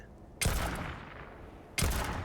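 Weapon fire in the space game Starfield: two sharp, loud shots about a second and a half apart, each followed by a long echoing decay.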